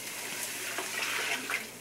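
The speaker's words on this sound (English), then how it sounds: "Now I'm going to add 12 cups of hot water." Hot water is poured steadily into a soup pot while making Italian wedding soup, a continuous soft splashing stream that runs the whole time, fairly close and moderately quiet, with no talking.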